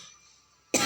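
A single harsh cough bursts out close and loud at the end after near silence.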